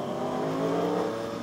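Three motorcycles, including an Aprilia Tuono, accelerating hard in a race on a mountain road, a steady droning engine roar with rising tonal whine, close and continuous for a brief moment.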